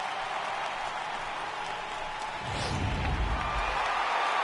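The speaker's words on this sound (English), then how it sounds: "the home crowd is loving it" A home crowd in the baseball video game MLB The Show 18 cheers in the bottom of the 8th, a broad steady roar of applause and cheering that swells louder midway and keeps going.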